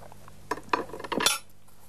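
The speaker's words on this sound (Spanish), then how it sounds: "voy a cortar un poco este queso" A knife cuts through a piece of cheese at a table, making several short clinking and tapping cutlery sounds against a plate or board over about a second, close and clear, with no talking.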